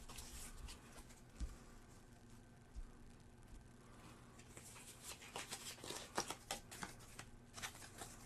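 Cards being shuffled for the Ancient Realm board game, faint soft riffles and flicks on a table, growing busier toward the end.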